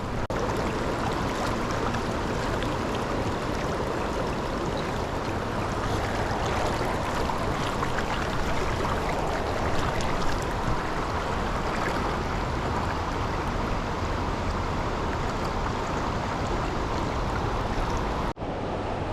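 A river stream flows steadily over a fishing pool and the run below it, producing a continuous broadband wash of rushing water that stays close and even throughout with no voices.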